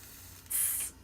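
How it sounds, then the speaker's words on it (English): Oil sizzling in a hot pan before eggs go in, a brief sharp hiss bursting up for under half a second against a quiet kitchen background. "Is it sizzling?"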